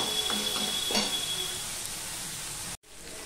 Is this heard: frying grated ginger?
yes